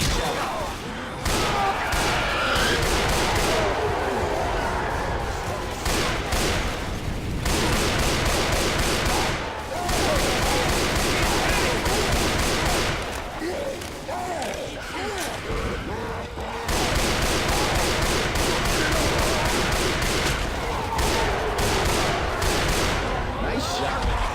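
Rapid gunfire from Left 4 Dead 2 survival play on the atrium bridge, with dense bursts of automatic shots and heavy blasts layered almost continuously, pausing briefly in a few short gaps before resuming at full loudness.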